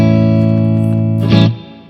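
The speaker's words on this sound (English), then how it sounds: "this is just a spring reverb" A sustained electric guitar chord through a Boss Katana 100W head on a clean setting rings out drenched in spring reverb, with a brief splashy crash near the end before it fades.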